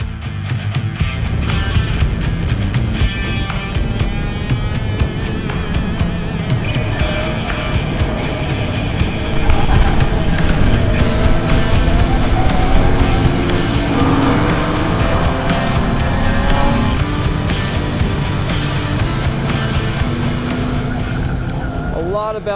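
A VW MK7 GTI laps a race track, its engine droning loud and continuous from close by with shifting revs, tire and wind noise throughout, and someone talking over it at times.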